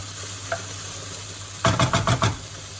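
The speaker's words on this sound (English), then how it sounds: "Just stir it through." Mushroom stroganoff sauce stirred in a frying pan: after a quiet start, a run of five or six quick scraping strokes against the pan, close and fairly loud, over a low steady sizzle.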